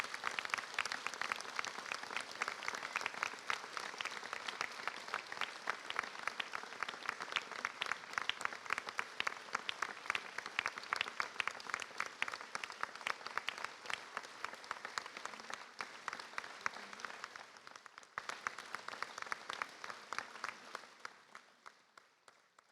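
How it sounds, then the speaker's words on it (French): Audience applause at a New Year's wishes ceremony in Lège-Cap Ferret: a dense, steady crowd clapping sustained for about twenty seconds, with a brief dip near the end before it swells again and then fades out. "Et je crois qu'on peut l'applaudir."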